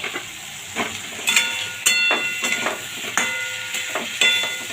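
Taro pieces and chopped tomato fry in spiced oil, crackling and sizzling in repeated bursts as they are stirred in the pan, close and fairly loud with no voices.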